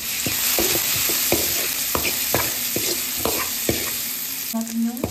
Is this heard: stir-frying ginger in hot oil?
yes